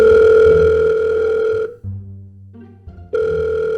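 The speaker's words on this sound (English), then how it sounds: "I gave a phone call to none other than Mr. Russell T. Davies" Steady telephone dial tone while a phone call is placed, loud and continuous, dropping away briefly in the middle to low ringing tones before resuming.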